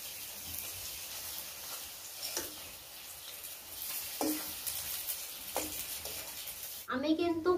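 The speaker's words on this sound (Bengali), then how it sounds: "এ পিট ও পিট করে পাঁকড়া গুলো দেখো কি সুন্দর করে ভাজি করেছি, আর খুব অল্প তেলে" Taro flower pakoras sizzle softly in a small amount of oil, a faint steady frying hiss with a few light clicks of turning, then a brief burst of voice at the end.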